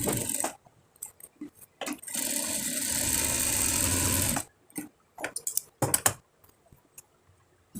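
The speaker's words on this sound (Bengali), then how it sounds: "এখানে এসে দুই ইঞ্চি পরিমাণ এদিক ওদিক সেলাই দিয়ে দিতে হবে" A sewing machine stitching a fatua shirt, running in one steady burst of about four seconds with a few short clicks and stops before and after, close and fairly loud.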